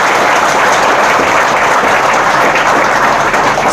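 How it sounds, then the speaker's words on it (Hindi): An audience claps loudly and steadily at a youth expo gathering to welcome a police superintendent, a dense, continuous wall of applause held evenly for several seconds with no talk over it. "एक बार जोरदार ताली बजाकर हम एसपी सर का स्वागत करते"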